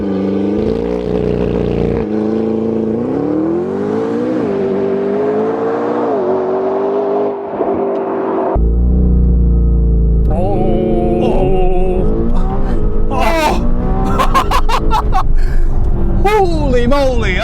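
A 2025 McLaren GTS accelerating hard, its engine note rising steadily through the gears with loud revving and gear changes, close and dominant throughout, while the driver shouts excitedly over it near the end.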